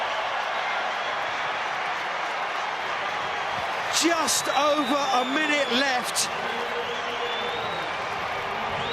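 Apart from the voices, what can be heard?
rugby crowd cheering as Worcester take the lead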